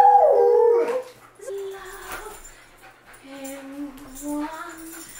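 A dog gives a loud, wavering howl, then trails into softer whining howls and whimpers in the quiet that follows.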